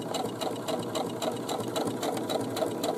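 A sewing machine stitches across the corner of a boomerang bag, a quick, even run of mechanical needle taps in a steady rhythm, close up and uninterrupted, with no talking.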